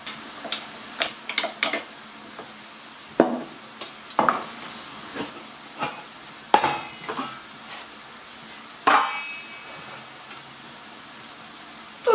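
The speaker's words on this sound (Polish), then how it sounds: "Tu się cały czas smaży" Beets fry and sizzle in a pan with a continuous crackle, punctuated by sharp scraping and clacking as the mixture is stirred at irregular intervals.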